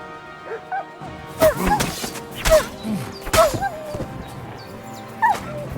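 A dog in the game Kingdom Come: Deliverance II gives several sharp barks and yips mixed with high whimpers, close and loud, spread irregularly across a few seconds over a low background hum.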